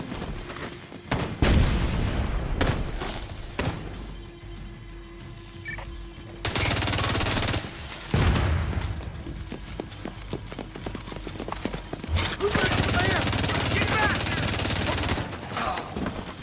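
Bursts of automatic gunfire from the shooter game The Division 2 rattle out in several loud volleys separated by quieter gaps, with a voice talking over parts of it.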